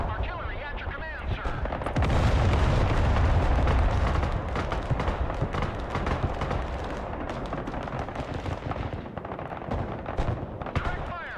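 Artillery fire and explosions from the video game Broken Arrow, loud sustained booming and rumbling blasts that swell after a couple of seconds and roll on steadily, with voices from the game talking over the barrage.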